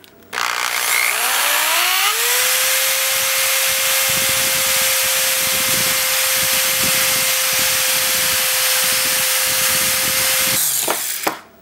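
A Harbor Freight drill bit sharpener grinds the tip of a drill bit. The motor spins up to a steady whine and a loud, continuous grinding rasp holds for about eight seconds before it winds down.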